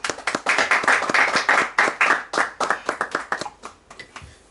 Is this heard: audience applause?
yes